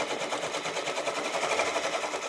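An embroidery machine stitching out an applique design, giving a steady, fast, even mechanical chatter of needle strokes that runs close up and continuous throughout with no pauses.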